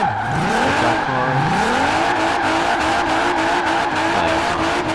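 A custom drift car in Forza Horizon 4 screams at high revs, with swooping pitch changes and sustained tire squeal as it slides, loud and continuous with no speech.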